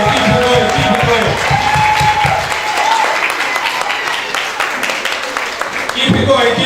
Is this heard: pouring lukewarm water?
no